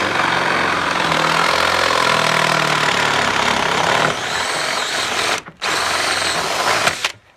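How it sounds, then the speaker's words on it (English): A power drill with a 10mm bit bores straight through a sash window frame, a loud close continuous whine that briefly cuts out twice near the end. "And then I'm going to go through with a 10mm drill bit."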